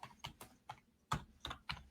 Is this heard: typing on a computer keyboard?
yes